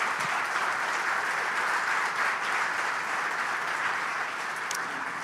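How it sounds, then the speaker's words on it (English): An audience at a Broadway District awards ceremony applauds a volunteer honoree, a dense, even wash of clapping that holds steady without pause from start to finish. "Please give her one more round of applause."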